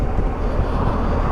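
Wind rushes past a rider on a 2021 BMW R1250GS TE Rallye motorcycle, a constant dense roar with low engine rumble beneath, loud and unbroken throughout.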